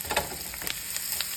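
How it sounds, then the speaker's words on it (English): Onion and celery sautéing in butter give a soft, steady sizzle with a few light stirring scrapes over a short stretch. "Get that nice and sauteed in our butter here."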